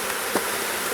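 Honey bees hum in a steady, close, dense buzz around an opened hive in spring, a continuous swarm drone with no voices over it.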